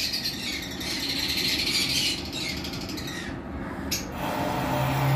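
Lovebirds, a green Fischer's opaline and an Ewing, squawk and chatter in a steady high-pitched stream, fairly near, with a brief sharp burst near the end.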